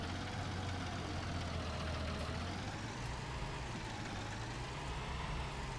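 A tractor engine idles steadily in Farming Simulator 19, a 900 series prototype fitted with a 1000 series front end, its low rumble continuous and close with no talk over it.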